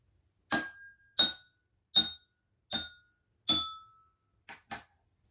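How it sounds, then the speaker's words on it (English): Five similar drinking glasses holding different water levels are tapped one after another, each giving a bright clink with a distinct ringing pitch and short decay, followed by two softer quick taps at the end. "Notice what happens when I tap each of the glasses."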